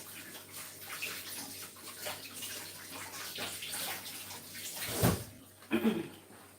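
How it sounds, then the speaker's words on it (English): Water runs steadily from a tap as hands are washed in a home kitchen during baking, a soft continuous hiss that ends with a couple of clunks and splashes near the finish. "So I'm just going to wash my hands now."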